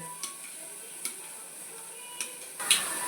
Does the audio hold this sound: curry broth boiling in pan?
yes